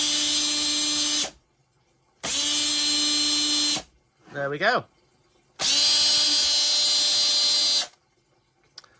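A Makita power drill whirs loudly in three long bursts with short pauses between, and a voice speaks briefly in one of the gaps.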